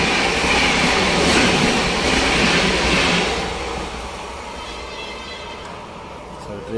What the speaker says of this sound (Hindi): सर ट्रेन का क्रॉसिंग हो रहा है, एक ट्रेन क्रॉस करे गई थी फिर दूसरी करी गई।